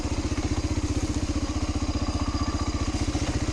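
A Honda Fourtrax 250x quad engine runs steadily while riding quickly down a steep hill, its fast, even pulsing close and loud with clattering thumps throughout.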